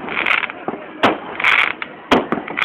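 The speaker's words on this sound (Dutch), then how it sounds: "Ja, schitterend vuurwerk." Consumer fireworks from a 36-shot cake fire in a New Year's display, giving sharp, evenly spaced cracks with crackling tails at close range, alongside faint talk.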